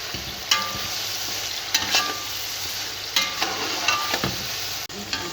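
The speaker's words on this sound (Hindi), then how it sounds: "अब हम इसमें यहाँ पे लहसुन अदरक का पेस्ट शामिल करेंगे और इसको अच्छे से भून लेंगे।" Steady sizzling of chicken frying in a pan with ginger garlic paste, with a few sharp clinks and scrapes of a spoon stirring at irregular moments.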